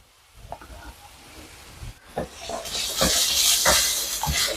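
Beans, carrot and beetroot sizzle in a pan with chili powder, coriander powder, pepper and garam masala for a veg cutlet, with stirring scrapes over a steady frying hiss that grows louder.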